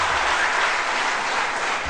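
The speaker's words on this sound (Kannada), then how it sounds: "ಚಪ್ಪಾಳೆ ಪ್ಲೀಸ್, ಚಪ್ಪಾಳೆ." Steady, dense audience applause at a jackpot event in Mysore, loud and even for the whole short stretch with no talk.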